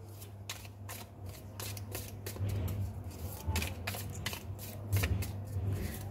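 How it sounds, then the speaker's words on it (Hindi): Tarot cards being shuffled by hand and drawn from the deck: a steady run of quick, crisp riffling flicks, close and moderately loud, over a low constant hum, with no talking. "दो कार्ड्स आ गए हमारे पास"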